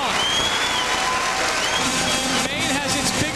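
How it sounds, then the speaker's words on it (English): A basketball crowd erupting at the 1998 America East women's final between Maine and Vermont, dense sustained cheering and applause filling the arena while an announcer talks over it. "The crowd has erupted"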